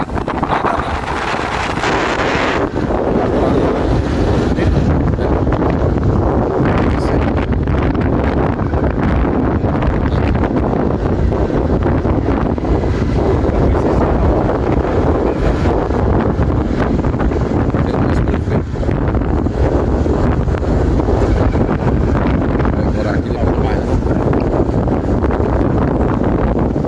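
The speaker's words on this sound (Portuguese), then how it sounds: "Vocês sentem o vento aí, ó." Strong wind buffeting the microphone on a mountain ridge at Pedra Branca, a continuous loud roaring rush with gusts throughout, no voices.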